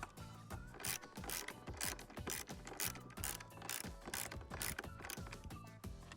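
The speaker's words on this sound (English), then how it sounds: "then we're going to finish it up with a ratchet" A hand ratchet tightens the roof rack mounting bolts on a 2014-2019 Toyota Highlander, its quick clicking strokes repeating in steady bursts, close and clear with no talking.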